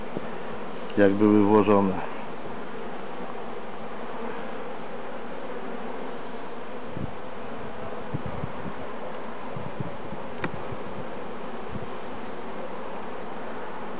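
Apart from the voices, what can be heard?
Macedonian honey bees buzzing around an opened hive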